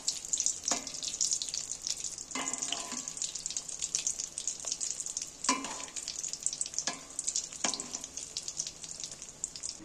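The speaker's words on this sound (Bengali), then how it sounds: "এগুলো ভাজার সময় তোমরা কিন্তু হালকা আঁচে ভাজবে।" Fish pieces fry in oil over low heat with a steady, close sizzle and crackle, broken by a few louder spatters and stirring scrapes; no one speaks.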